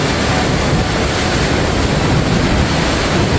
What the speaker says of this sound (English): You can hear that wind!